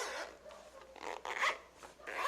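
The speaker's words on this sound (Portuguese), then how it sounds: "Coloquei aqui o meu zíper." Zipper drawn along a handmade craft folder, several short raspy zipping strokes close up with small pauses between them.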